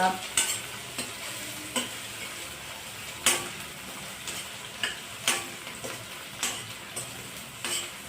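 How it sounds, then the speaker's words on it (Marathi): Onion sautéed in a pan for a hadga flower bhaji: a low frying sizzle broken by a series of sharp spatula scrapes and taps against the pan, irregularly spaced and close. "आता कांदा परतून झाला आहे आपला तुम्ही पाहू शकता"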